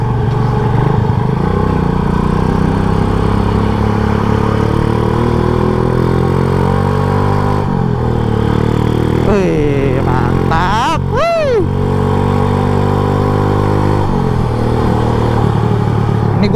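Motorcycle engines, Yamaha X-Max scooters among them, idle and rev on a busy street in Bali, a loud continuous drone with rising and falling revs near the middle and traffic clatter around.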